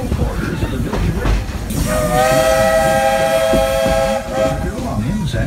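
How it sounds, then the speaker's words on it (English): Steam train at Walt Disney World sounds a loud, sustained multi-tone whistle for about two seconds over steady rumbling of the railroad cars, close and prominent. "There are some who say that this steam train is a little old-fashioned."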